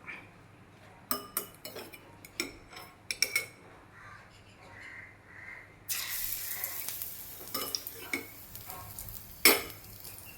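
Ground paste dropped into boiling coconut oil in a pan, with soft metal stirring clinks followed by a sudden loud, steady sizzle that continues as the spoon scrapes and taps, close by with no talking.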